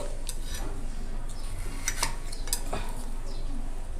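A knife cuts through frozen kulfi ice cream on a plate or board, with scrapes and light clinks of metal against dishware over steady kitchen background noise.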